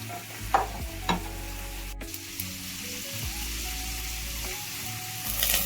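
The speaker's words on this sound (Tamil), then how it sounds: "எண்ணெய் ஹீட்டானதும் கடுகு, உளுத்தம்பருப்பு, வெந்தயம் போட்டு தாளிச்சுக்கலாம்." Mustard seeds, urad dal and fenugreek tempering in hot oil in a kadai, a soft steady sizzle with scattered pops and a few stirring scrapes, close and fairly quiet.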